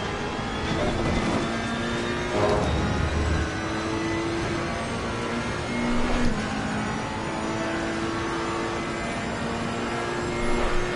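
Race car engine from Assetto Corsa Competizione on PS4 at Monza, droning steadily with shifting pitch and occasional surges as it runs close behind a slower car, with no talk over it.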